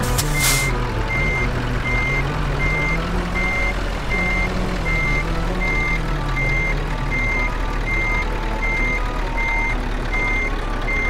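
A truck reverses in Euro Truck Simulator 2, its backup alarm beeping steadily in even pulses over a continuous low engine drone, with no speech.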